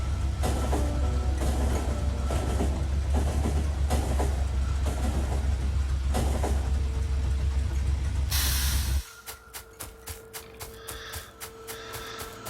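A train in the video game Factorio rumbles loudly along the rails with a steady roar and clatter, then the noise drops away to a lighter, rhythmic clickety-clack.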